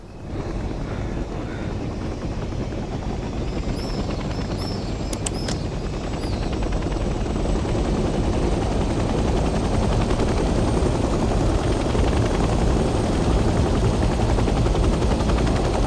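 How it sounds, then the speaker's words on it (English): A helicopter's dense rotor roar in the video game Hell Let Loose: Vietnam fills the whole stretch, steady and loud, growing slightly stronger as it lifts and holds in place. "The helicopter will now take off automatically and remain in a hover state."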